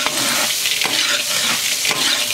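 Clams sizzle loudly as they are stir-fried in a wok with lard, pickled chili, ginger and garlic. A spatula scrapes and tosses them in steady strokes under the constant frying hiss.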